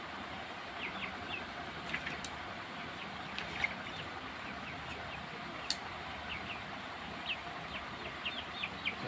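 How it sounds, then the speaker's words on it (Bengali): Farm-raised chickens, about a kilogram each, pecking at feed, giving soft scattered clucks and chirps over a steady, quiet background hiss, with no talking. "এখন খাবার খাচ্ছে মুরগিগুলা, খাবার খেতে ব্যস্ত হয়েছে"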